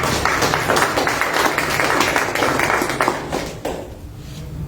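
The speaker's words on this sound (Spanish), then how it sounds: "Un aplauso para él." An audience at a lecture on the Trujillo revolution applauds a lawyer and intellectual being introduced; steady, loud clapping that tapers off toward the end.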